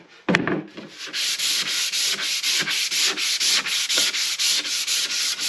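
Wood being sanded by hand with 120 grit sandpaper in steady back-and-forth strokes, a loud, even rasping rhythm of about three strokes per second, close up with no voices.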